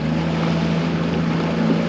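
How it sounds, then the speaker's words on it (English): Swell from the northeast rolls straight in against a harbour pier wall in winter, a steady broad wash of surf with a low constant hum underneath, continuous and fairly loud with no distinct breaks. "here the waves are just rolling straight in from the northeast"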